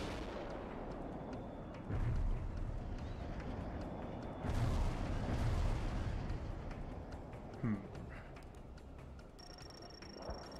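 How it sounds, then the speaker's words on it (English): JDAM bomb strikes in the war game World in Conflict, heavy booming blasts rolling in at intervals under constant rumbling battle noise, loud and wide. "I'll call in a JDAM on this guy."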